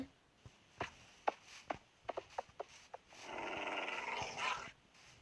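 A video game dog makes a series of short sharp sounds at irregular intervals, followed by a longer rough, noisy stretch. No one speaks.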